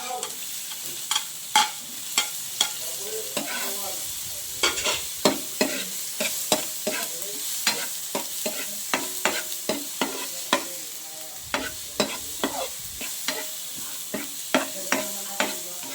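Garlic and onion frying in a pan, a continuous soft sizzle punctuated by frequent sharp scraping and tapping strokes of a spatula stirring throughout.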